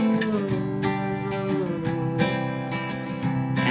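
Bright acoustic guitar strumming of the pre-chorus of a song, ringing chords in a short steady rhythmic passage played alone.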